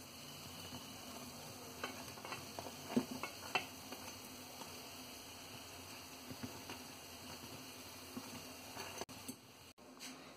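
Sierra Leone dumplings frying in hot oil, a soft steady sizzle and crackle running throughout with occasional small pops and stirring clicks, fairly quiet and close, no voices.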